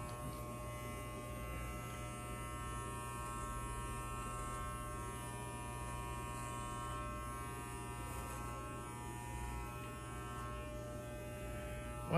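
Electric shaver cutting hair, a steady close buzzing drone with a constant hum that continues unbroken for about twelve seconds, with no talk.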